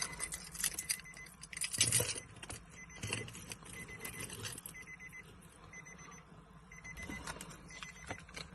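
An Infiniti G37 key fob goes into its ignition slot with jangling, clicking key and plastic sounds, repeated handling rattles and faint electronic tones inside the car, no one speaking.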